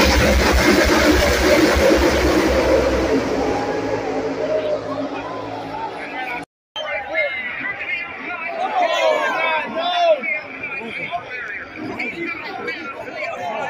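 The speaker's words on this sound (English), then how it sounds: "you could hear people booing and cheering at the same time" A large crowd at a NASCAR Cup Series race at Pocono Raceway, booing and cheering together in a dense roar of voices over engine noise, with a speaker talking close by near the end.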